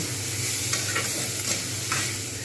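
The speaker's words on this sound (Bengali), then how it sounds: "এইবার আমি এর মধ্যে বাঁধাকপিটা দিয়ে দেবো একসঙ্গেই কিন্তু আমি এটাকে ভাজব" Cabbage hisses steadily in a hot pan with browned mung dal, a close, continuous sizzle punctuated by a few quick scraping strokes of a spatula stirring it around.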